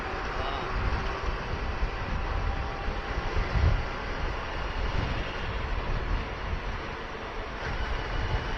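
Wind and surf roar along the seashore near Murudeshwar, a broad continuous wash of noise with gentle swells, steady and moderately distant, with faint voices mixed in.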